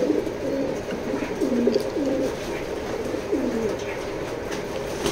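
Original racing pigeons, two pairs, coo in low, repeated throaty phrases at close range over a steady background hum, with no one talking.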